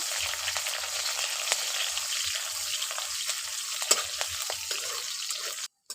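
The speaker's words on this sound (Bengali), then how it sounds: "এবার এর মধ্যে দিয়ে দিচ্ছি পেঁয়াজ কুচি। পেঁয়াজটাকে একটু ভেজে নেব।" Steady crackling sizzle of onions frying in a pan, close and continuous, with a few sharper pops and a scrape near the end.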